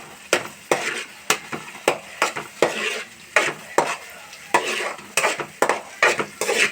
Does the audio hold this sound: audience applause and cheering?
no